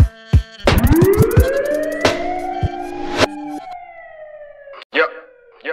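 Ambulance siren sound effect in a Dutch comedy song, a wailing tone rising and holding loud near the start, then fading off, with brief thumps and a short voice-like burst near the end.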